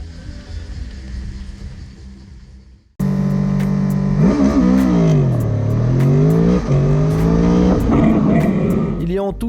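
Honda 800 VFR motorcycle engine revving and pulling hard through gears during a road rally, loud and close with rising and falling pitch sweeps, after a quieter ambient stretch.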